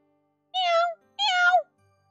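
Two clear cat meows from a cat cafe in the video game Amnesia Later x Crowd, each about half a second long, close and fairly loud, with a short pause between them and no talk.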